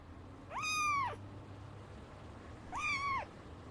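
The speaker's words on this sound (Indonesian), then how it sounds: "Kucing." A cat meows twice, clear and close, each call a rising then falling tone lasting about half a second, with a steady low hum underneath.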